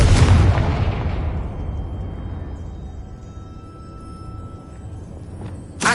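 A heavy explosion from a blasting spell in a video game erupts at full strength, then its rumble slowly decays over several seconds into a quiet hum before a second short burst hits at the end.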